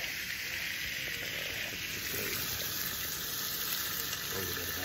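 Black pudding frying in a pan for breakfast, a steady close crackling sizzle throughout with no talk.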